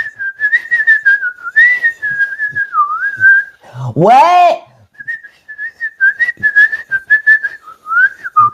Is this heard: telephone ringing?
no